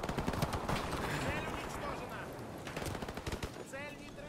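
Bursts of automatic gunfire from the Call of Duty Modern Warfare Remastered video game rattle in rapid strings, then break into shorter separate shots, with a person's voice audible in places.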